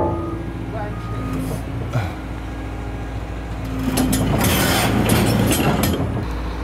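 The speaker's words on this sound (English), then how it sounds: "That's our train going past" A train rumbles past nearby, its rolling clatter and metallic clinks swelling louder in the second half, with voices talking over it.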